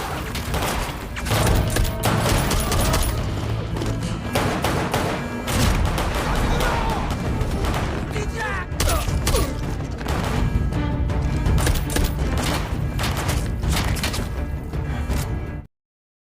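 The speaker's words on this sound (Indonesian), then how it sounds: "aksi baku tembak pun terjadi antara Do-sik melawan begitu banyak tentara Korut" Battle scene from the series Moving, with one soldier trading fire against many North Korean troops: dense bursts of gunfire, booms and crashes in rapid succession, loud and near throughout, with a score running underneath.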